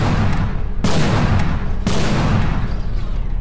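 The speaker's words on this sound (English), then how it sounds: "it's basically an anti-aircraft shotgun" An anti-aircraft shotgun fires in the video game From the Depths, with two sharp, loud blasts about a second apart over a constant rumbling battle din, no voices.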